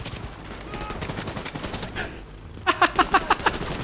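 A deployed turret in The Division 2 fires a rapid burst of sharp, evenly spaced shots close by, rising out of a dense bed of continuous gunfire and battle noise.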